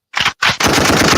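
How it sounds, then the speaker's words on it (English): Loud, close bursts of gunshot sound effects, two short sharp blasts followed by a sustained rapid volley. "I got gunshots coming"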